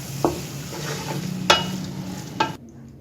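Coriander and green chillies being stirred into simmering masoor dal, with a low bubbling hiss under three sharp spoon knocks against the pot before the sound cuts off.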